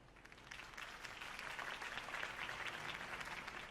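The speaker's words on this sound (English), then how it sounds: "If only Mr. Wayne, my campaign's largest backer, could have heard that applause" Steady crowd applause in the video game Batman: The Telltale Series, dense clapping that swells slightly and holds, fairly loud and continuous, with no voices over it.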